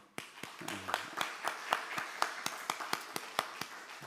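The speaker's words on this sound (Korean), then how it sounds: "이분들을 축복하고 격려하는 마음으로 우리 박수로 한번." Church congregation claps sparsely at a Sunday school teachers' dedication service, with about a dozen distinct, evenly spaced claps that ring out in a reverberant hall and a brief low murmur near the start.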